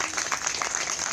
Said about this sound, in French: Donc, on applaudit